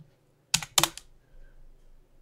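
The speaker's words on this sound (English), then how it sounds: "Let's type that in correctly." Two quick bursts of typing on a computer keyboard, a short run of clicky keystrokes followed by a brief pause and another cluster, close and fairly quiet in a still room.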